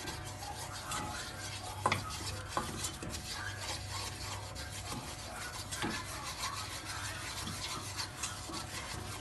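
A spoon stirs pasta in a white cheese sauce in a pan, making soft continuous rubbing and scraping sounds with a few sharper clicks of utensil against the pan, close and fairly quiet.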